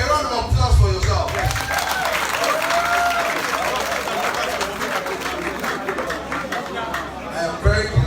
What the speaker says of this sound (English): Please, a round of applause for yourself.